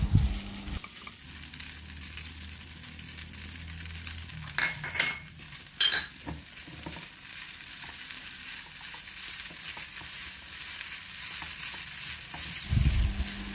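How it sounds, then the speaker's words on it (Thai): Glass noodles stir-fried with stink beans in a pan: steady sizzling and frying throughout, broken by a few sharp clinks and scrapes of a utensil against the pan, heard up close with no talking. "ผัดผะวุ้นเส้นสุกแล้วก็ใส่สตอลงไปค่ะ"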